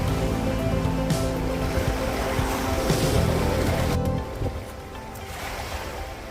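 Sea surf rolls in at the shore near Old Colwyn arches, a loud continuous wash of breaking waves with wind buffeting the microphone, easing slightly toward the end.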